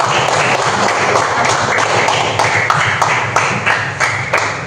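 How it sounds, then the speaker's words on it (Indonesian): A classroom of students claps for group 4 after a presentation, with loud, continuous close applause that holds steady throughout and slightly thins near the end. "kasih tepuk tangan untuk kelompok 4"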